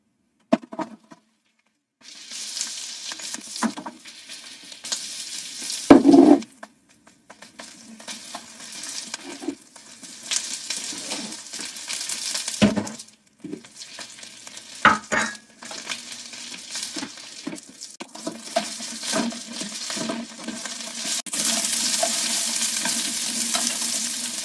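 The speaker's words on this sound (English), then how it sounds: "it is the frying sounds" Onions sizzle steadily in a hot pan, with occasional clanks of a utensil stirring against the pan; the frying grows louder toward the end.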